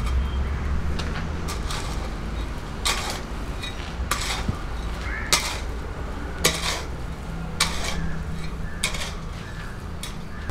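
Potting soil being mixed by hand with organic manure: repeated scraping, scooping and rustling strokes at close range, with sharp scratchy bursts at irregular intervals and no talk.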